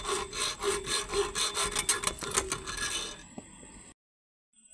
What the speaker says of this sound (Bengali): এই যে টেন্সার ব্লেড থেকে কাটছি